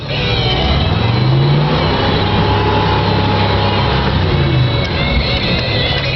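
A 1975 Ford Bronco with a 351W engine and NP435 transmission grinds along loudly in first gear, its revs rising and falling slightly as it drives steadily, with no voices.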